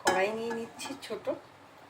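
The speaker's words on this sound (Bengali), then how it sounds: "এখন আরেকটা কড়াই নিয়ে নিচ্ছি ছোট।" A small wok clatters briefly on a stovetop with a short ringing metallic clang and a few lighter knocks, set against faint kitchen background.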